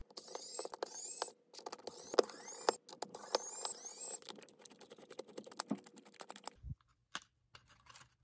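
Screws being backed out of a Sega Game Gear main board inside its front plastic shell: dense, close ticking and clicking with scraping in bursts, then quieter handling and a soft thump near the end.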